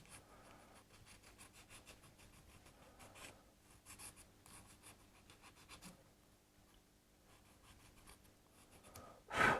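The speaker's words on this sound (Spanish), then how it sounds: "con la lima de media caña vamos a limar aquí un poquito, vamos a quitarle la pintura" Half-round file rasping paint off a plastic slot car body, a quiet run of short, repeated scraping strokes in an irregular rhythm, close by, ending in a louder knock or handling noise.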